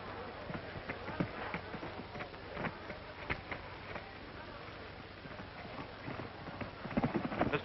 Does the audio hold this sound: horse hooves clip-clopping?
yes